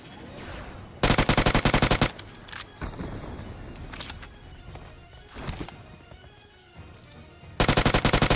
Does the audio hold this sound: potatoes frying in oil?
no